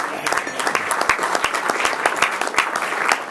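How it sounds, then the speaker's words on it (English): Applause breaks out at a Rotary club meeting to thank the greeter, a dense steady patter of many hands clapping close by, sustained evenly for the whole stretch with no talk over it. "give him a round of applause"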